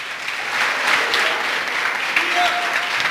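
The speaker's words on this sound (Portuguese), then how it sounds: "aplauda mais forte o Senhor" A church congregation at an anniversary service claps in steady, dense applause, moderately loud and continuous, with a voice speaking faintly underneath.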